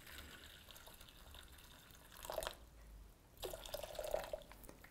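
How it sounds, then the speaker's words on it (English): Hot water is poured into a jug, a faint trickling and splashing that comes in two short bursts, alone and fairly close, with no talk. "we're going to start by adding 400 milliliters of hot water to our jug"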